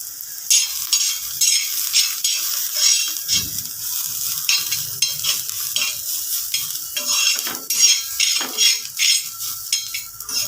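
Onion sizzling in a little oil in a pan, with bursts of hissing and repeated scraping and stirring of a spatula against the metal, close and fairly loud, no voices.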